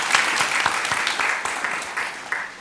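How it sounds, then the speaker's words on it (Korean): Congregation clapping together during a Sunday church service, a moderate, slightly uneven patter of hands with rhythmic accents, steady and somewhat distant. "우리 영광의 박수를 우리 하나님께 올려드리겠습니다"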